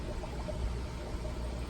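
Soft, continuous trickle of water splashing into a hang-on-back aquarium filter, close by and fairly quiet, with no talking.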